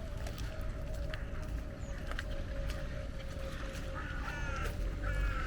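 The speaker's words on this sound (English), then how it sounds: "Check the size of those crows." Large crows calling along a snowy Stockholm lakeshore, a few short caws rising at intervals over steady outdoor rumble and water or traffic noise, with no talking.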